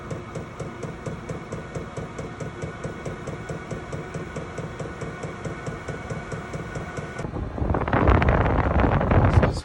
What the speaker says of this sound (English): just give you an idea of the fan blowing